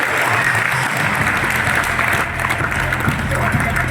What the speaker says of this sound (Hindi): जोरदार ताली बजाइए दोस्तों